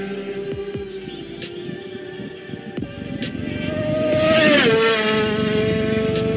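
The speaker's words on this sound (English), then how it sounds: "Riders are pumping up and trying out to squeeze all the power on the engine of their motorbike" Motorbike engines roar past at speed, a loud engine note rising and falling as machines accelerate, with a sharp swell toward the end.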